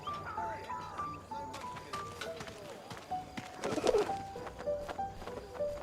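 Pigeon cooing in the video game 11-11: Memories Retold, soft repeated coos amid chatter and background game sounds, with a louder burst of flapping or scuffling near the middle.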